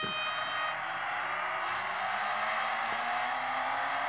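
A Koenigsegg Regera hypercar in a racing video game, its engine holding a steady high whine with a faint rising tone over continuous road and wind roar, close and unbroken.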